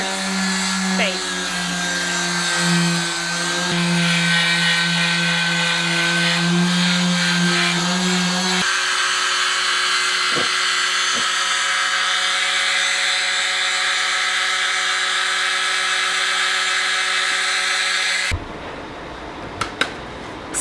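A power sander working 800 grit over a catamaran hull during a boatyard refit, a loud continuous whining hum that shifts pitch partway through, then cuts out near the end.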